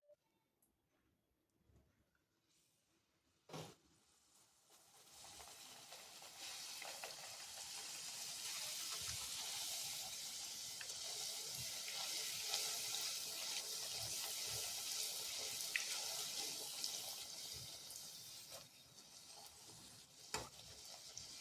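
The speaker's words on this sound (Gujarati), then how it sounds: "તો હવે આપણે અહીંયા પૂરી તેલમાં તળી લઈશું" Green-pea masala puris deep-frying in hot oil, a steady loud sizzle that swells after a sharp drop-in clatter and holds with crackling bubbles and occasional utensil clinks.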